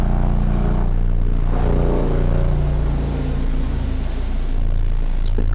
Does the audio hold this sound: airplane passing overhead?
yes